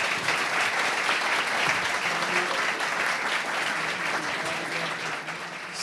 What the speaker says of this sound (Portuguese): Peço uma salva de palmas para o nosso convidado.